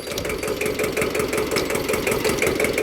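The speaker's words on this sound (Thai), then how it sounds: "PTO ทำงานปกตินะครับ จับไม่หยุดนะครับ ทำงานปกติครับ ตัว PTO เราใช้งานได้ทุกเกียร์นะครับ" A Kubota L1501 single-axle tractor runs with its PTO engaged, a steady mid-pitched diesel chug with a regular knocking pulse, close and continuous throughout with no talk.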